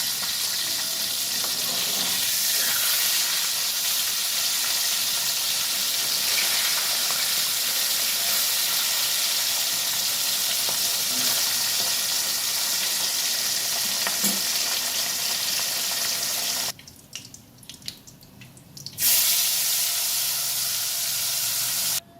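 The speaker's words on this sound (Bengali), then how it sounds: "মাছের এক পিঠ হয়ে গেছে, মাছটা উল্টে দেবো।" Fish frying in oil in a wok after being turned over for a Bengali-style vola fish dish, a steady close loud sizzle and hiss with stirring, briefly dipping quieter near the end before resuming.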